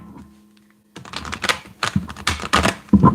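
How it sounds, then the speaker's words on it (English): A deck of cards shuffled by hand at close range: a brief near-silent start, then a run of crisp, papery riffling bursts and flicks in quick, uneven succession. "I have to be super careful with the shuffling."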